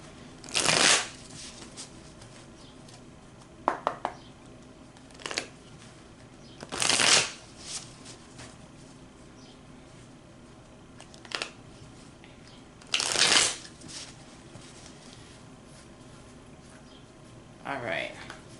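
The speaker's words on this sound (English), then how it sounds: "Go ahead and shuffle this one more time" Playing cards being shuffled at close range in several separate bursts, each a crisp riffling flutter lasting about a second, spaced apart with quiet gaps and occasional small handling clicks between them.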